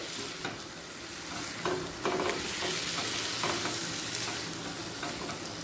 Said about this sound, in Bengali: ডিমগুলো দিয়েও আরও এক মিনিট কষিয়ে নেব পেঁয়াজের সাথে